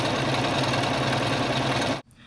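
Sewing machine on a straight stitch sewing a fabric shopping bag, a close, steady rapid mechanical whirr and rattle that stops abruptly near the end.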